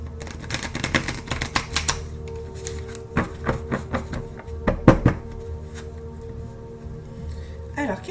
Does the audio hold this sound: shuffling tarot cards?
yes